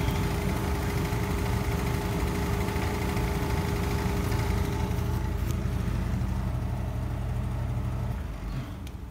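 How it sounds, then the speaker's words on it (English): An HVAC blower motor runs as a steady, loud hum with a constant tone, then begins winding down near the end as the system is switched off. "You're going to turn the motor off so it's not blowing anymore."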